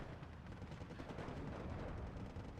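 An ammo explosion in a tank during a Steel Division 2 match comes through as a continuous, fairly faint rumbling crackle of blasts and battle noise, with no speech over it.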